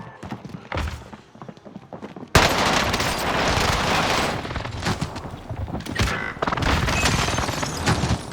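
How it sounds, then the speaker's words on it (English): A precision airstrike in a video game, a sudden heavy barrage of rumbling blasts and rapid gunfire that starts abruptly and continues loudly, with brief game sounds and a quieter stretch before it begins. "Enemy precision marked. airstrike."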